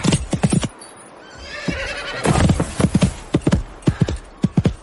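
Radio-drama horse effects: near hoofbeats pound in quick galloping bursts, with a loud neigh in the middle, and no talk over them.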